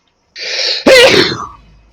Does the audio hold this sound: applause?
no